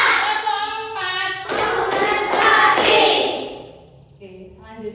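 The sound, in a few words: class clapping rhythm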